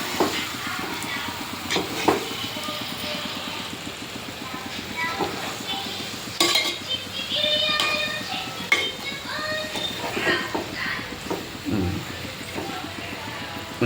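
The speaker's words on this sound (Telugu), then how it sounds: "ఈ చేపలు పచ్చిగా ఉన్నప్పుడు ఒకసారి తిప్పుకోవాలి" Fish pieces are turned in masala in a pan with brinjal: scraping and clattering from a spatula, with short clinks and a soft sizzle, while someone talks over it.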